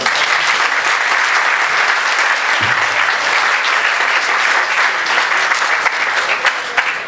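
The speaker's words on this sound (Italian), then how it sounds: "Un applauso." Audience applause fills a hall at a Capuchin friars' missionary conference in Recanati, loud, dense and continuous from many people clapping for the whole stretch.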